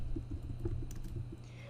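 Keystrokes on a computer keyboard as a file name is typed, a quick run of light, close clicks over a steady low hum, no talk.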